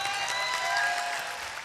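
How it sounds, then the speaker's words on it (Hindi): Steady applause from an audience at an international mushaira poetry gathering, dense and continuous for the whole short stretch, with no voices above it. "मरतबा तालियां बजा के मुझे इजाज़त दे दे"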